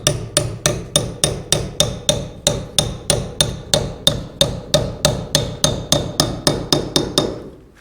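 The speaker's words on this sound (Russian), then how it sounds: "забиваю в эту стену." Metal pins are hammered into a wall at a 45-degree angle, about two dozen sharp, evenly spaced blows struck at a steady rhythm, close and loud with no talking.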